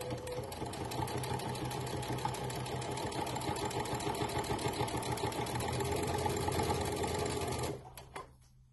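A sewing machine stitches fabric through a binder foot, running steadily with a fast mechanical chatter for about eight seconds before stopping, followed by a couple of faint handling clicks.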